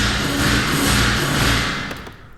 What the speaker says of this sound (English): On the pedal as well, crash cymbals and drum.